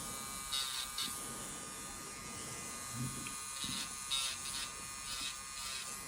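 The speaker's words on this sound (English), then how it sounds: "With the electric file, you are putting way less pressure. So, because the machine is doing the work for you." An electric nail file buzzes steadily during a dry manicure, a faint continuous high whine with small shifts in pitch as the bit touches the nail, fairly quiet and without talk.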